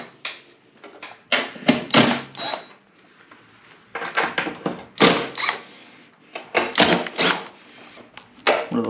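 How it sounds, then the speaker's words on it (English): Someone pries and pulls the belly pan off a vintage Snapper I422 snow blower, making a series of scraping, clunking and rubbing knocks in irregular bursts close by. "let's pop the belly pan off and see what's going on there"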